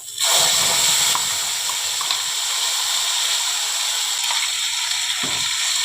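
Ground spice paste is dropped into hot oil with cumin seeds and bay leaves while cooking koi fish, bursting into a sudden loud sizzle that keeps hissing steadily with faint clinks.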